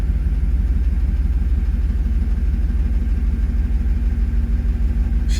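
A car engine idles steadily after a fuel pump regulator replacement, with a continuous low, close rumble and slight pulsing throughout.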